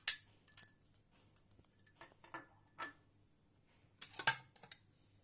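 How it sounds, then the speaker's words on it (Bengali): Ingredients are mixed into chicken mince in a bowl, heard as sparse metallic clinks of a spoon against the dish, short taps scattered across quiet gaps with a small cluster near the end. "এবার আমি সব জিনিসগুলো এক এক করে মিক্স করব চিকেন কিমার মধ্যে"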